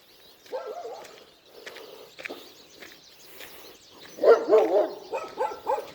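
Dogs bark outdoors near a creek beside a road, several moderately distant barks and yips in uneven bursts, growing louder toward the end, with birds faintly in the background.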